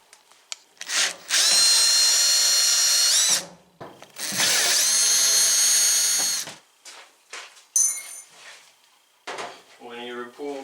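A power drill whirs in two sustained bursts while backing screws out of the rear panel of a Samsung dryer, followed by clanks and handling of metal parts, close and loud.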